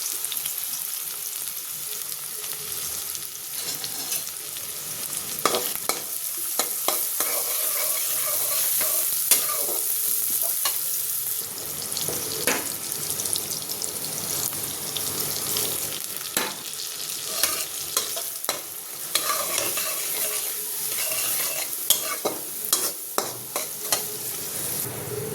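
Onion frying in hot oil while being stirred, a continuous close sizzle broken by frequent scraping strokes of the utensil against the pan.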